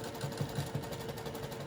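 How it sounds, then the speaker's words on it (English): Steady low mechanical hum of an air filtration system running in a sewing room, a continuous droning whir with faint pulsing, moderately quiet and alone with no voices. "That noise you hear in the background is my air filtration system."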